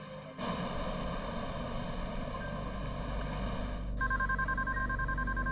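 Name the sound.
telephone ringing unanswered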